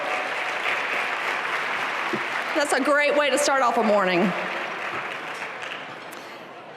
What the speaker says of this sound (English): Let's give a big round of applause to the Nashville Pipe and Drum Corps.